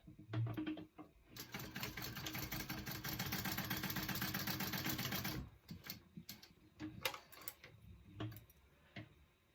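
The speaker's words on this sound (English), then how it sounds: "Sew up one side, sew up the other side." A sewing machine runs in a steady, fast mechanical whir for about four seconds while stitching the sides of a fabric clutch bag, framed by short bursts and clicks of handling before and after, with no talking.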